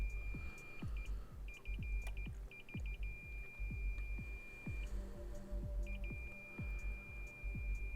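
A multimeter beeps in repeated short bursts while its probes sit across the terminals of a shorted power socket on a Moonraker Major radio, the steady tone cutting in and out over a busy background of tapping and clatter.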